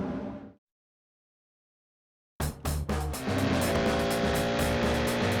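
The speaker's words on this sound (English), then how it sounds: "down the long straights of Le Mans, the power advantage of the turbocharged diesels is plain to see" Turbocharged diesel race cars at Le Mans roar past, with a fading engine sound, a stretch of silence, then a loud, sustained, rumbling drone of engines close up.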